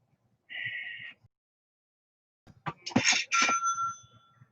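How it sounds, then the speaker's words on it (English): A phone notification chime sounds once, short and bright, in a quiet room; after a pause a second, louder cluster of ringing dings follows with faint background noise. "Ding! My phone's going crazy."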